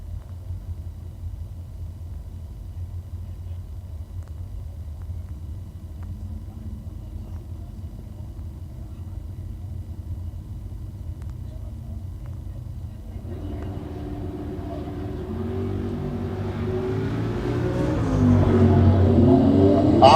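A green Fox body Mustang launches off the line at a bracket drag race, a low idling rumble that swells into a loud, rising roar of acceleration over the final seconds.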